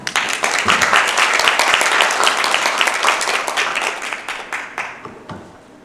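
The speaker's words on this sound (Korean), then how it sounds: "박수로 환영 부탁드립니다" Audience applause welcoming a graduate student presenter at a Yonsei University conference, dense clapping that holds steady, then thins and fades over about six seconds.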